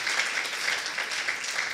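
A church brunch audience claps steadily to honor a woman after her testimony, a dense, even burst of applause filling the room.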